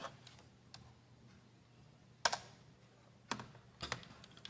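Keys are pressed on a computer keyboard during BIOS setup, a few sharp isolated clicks and short clusters of taps against a quiet room hum.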